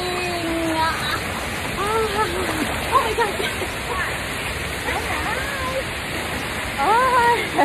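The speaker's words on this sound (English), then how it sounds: "Oh, the water is waving!" Continuous splashing and sloshing of water around swimmers, close and fairly loud, with excited voices and squeals mixed in throughout.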